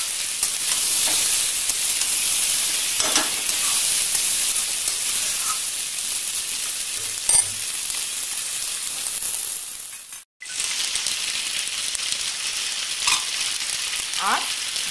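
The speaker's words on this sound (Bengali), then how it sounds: "আমি 2 মিনিট মতো ফ্রাই করবো।" Spices fry in a pan for dum aloo with a continuous close sizzle and occasional stirring scrapes, broken by one brief near-silent dip before the hiss resumes at the same level; nobody speaks.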